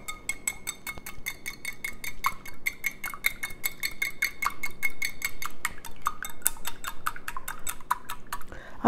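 A small whisk beats an egg into latke batter in a bowl, tapping out a rapid, steady run of metallic clinks and scrapes close by, with no talking.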